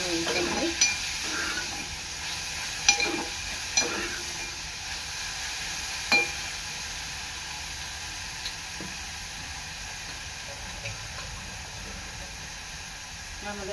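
Garlic, green chili and cumin sizzle steadily in a hot pan for a brinjal bharit, with a few scattered scraping taps from stirring over the constant frying hiss.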